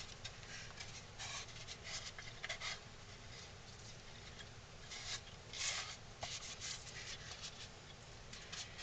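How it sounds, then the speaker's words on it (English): A cloth wipes sanding dust off a wooden figure in quick repeated strokes, a soft, close scratchy swishing heard on its own. "make sure you wipe it all down to get all the dust off from your sanding"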